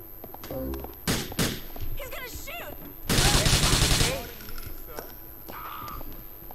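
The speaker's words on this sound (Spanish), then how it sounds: "Voy con la ametralladora, que será más eficaz." Machine gun bursts during a GTA IV mission, rapid rattling gunfire with a long sustained volley in the middle and scattered thuds, over game sound effects and a voice talking.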